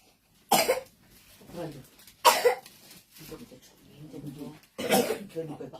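Three sharp coughs ring out at intervals in a quiet room during a church Bible reading, each burst loud and close, separated by softer breathing and murmured voice sounds.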